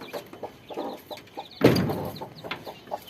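Chickens in a village coop clucking close by, a run of short soft clucks with one louder squawk in the middle, no talk.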